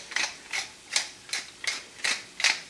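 Rhythmic grinding crunches from a hand pepper mill cracking fresh peppercorns, seven evenly spaced ratcheting bursts in about three seconds, close and clear with no talking.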